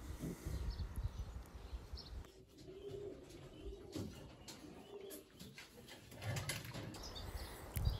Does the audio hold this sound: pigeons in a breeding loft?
yes